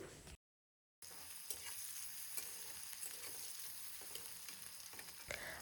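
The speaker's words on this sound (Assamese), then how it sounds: "সেইখিনি তেলতে পিঁয়াজখিনি এতিয়া দি ৰংচোৱা হোৱালৈকে ভাজি থাকিম" Onions fry in hot mustard oil with a steady, close sizzling hiss and occasional stirring scrapes. The sound drops out completely for a moment early on, then continues.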